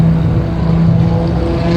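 The power liftgate on a 2023 Chevrolet Equinox RS AWD closes with a loud, steady motor hum that holds even throughout, with no voices over it.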